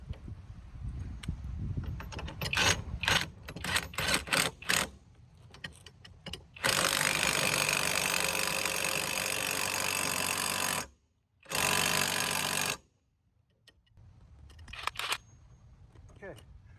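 Temu impact wrench tightening a bolt, rapid hammering bursts, then a long loud continuous rattle broken by a short pause before it resumes, close by, with quieter handling noises around it.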